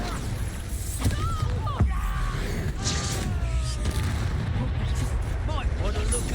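The Bombardo explosion spell in the video game Hogwarts Legacy goes off in a booming blast amid a busy battle, with voices talking over the fighting and whooshing spell effects.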